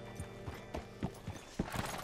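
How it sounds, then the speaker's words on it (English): Horse hooves clip-clopping in the video game Red Dead Redemption 2, a quiet, slow run of about eight soft thuds at a walking pace, heard without speech. "Hitch your horse up here."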